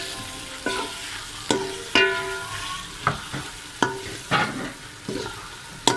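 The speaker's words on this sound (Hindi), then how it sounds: "अब हम इसमें गोश्त मिक्स ऐड करेंगे। तो अच्छे तरीके से हिला लेंगे।" Meat being stirred into masala in a cooking pot, with a spoon scraping and clanking against the pan in irregular bursts over a steady frying sizzle. Close and fairly loud, no voices.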